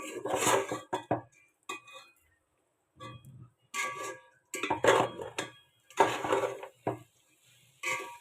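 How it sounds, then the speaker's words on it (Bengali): Khichuri of vegetables, rice and lentils being stir-fried in a pot, heard as a series of scraping, clattering spoon strokes against the metal, in irregular bursts separated by short pauses. "এখন বাকি সবজি চাল ডালের সঙ্গে এখন আমি খুব ভালো করে আবারও এখানে ভুনে নেব"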